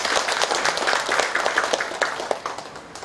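An audience at a rural agricultural gathering in Icheon, Korea, breaks into sustained applause, a dense patter of many hands clapping steadily throughout.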